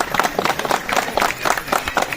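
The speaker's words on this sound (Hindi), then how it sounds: "तालियां बजाइए भाई" Applause from an audience at a gathering for elderly, widowed and disabled people, steady dense clapping filling the whole stretch with no talk over it.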